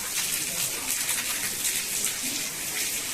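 Heavy monsoon rain during the Sawan month, a steady, even hiss of downpour at moderate level with no clear pauses and no voices.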